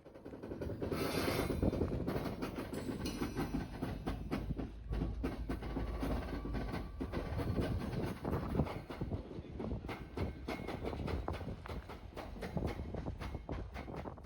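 Railcars clank and rattle with a series of sharp metallic knocks and thuds as a rescue locomotive couples onto the back of a commuter train set at a station, steady and moderately distant.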